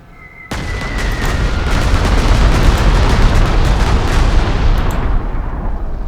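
Explosions from bombing in the strategy game Panzer Corps 2 hit with a sudden heavy boom, then a dense, loud rumble that holds steady for several seconds.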